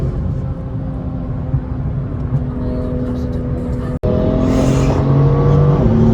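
A BMW M2 CS engine holds full throttle on an uphill stretch of the Nürburgring, a loud, steady in-cabin drone whose pitch climbs through the gears, with a brief cut near the middle.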